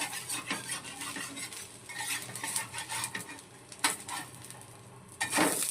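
Onion dosa frying in extra oil on a pan over low-medium heat, a steady soft sizzle with occasional sharp clinks and scrapes of a metal spatula as it is turned.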